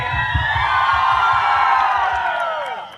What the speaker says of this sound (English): So a big round of applause इनके लिए.